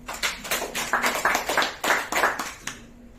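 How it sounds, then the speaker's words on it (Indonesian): An audience at a business motivational seminar claps hands in a loose, uneven burst of distinct claps that runs about two and a half seconds before stopping abruptly, leaving near silence. "Yang setuju tepuk tangan."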